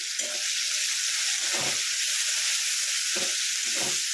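Steady close sizzle of fish oil and thinly sliced onion frying in hot oil in a pan for chochori, with a few soft low stirring scrapes in between.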